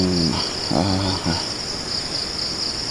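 Continuous high-pitched chirring of crickets fills the scene, steady and moderately loud, with a brief tonal call near the start.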